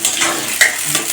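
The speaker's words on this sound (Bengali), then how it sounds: "তো আলুটা একটু কষে নেব।" Potatoes fry in a pan for a Bengali chicken skin curry, giving a brief, loud, hissing sizzle with a scrape or two of stirring, no voices heard.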